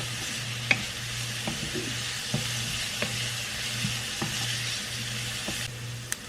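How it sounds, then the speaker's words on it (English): Onions crisping in a pan on a home stove, a soft continuous sizzle broken by occasional sharp clicks and taps of a utensil, with a faint low hum underneath. "The onions have had a chance to cook and maybe get a little bit crispy."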